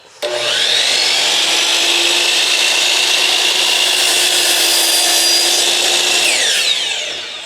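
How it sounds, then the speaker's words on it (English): A miter saw bites into a board in one long, loud, close cut, a steady rasping whine that starts abruptly and tapers off as the blade finishes. "another great cut by the miter saw"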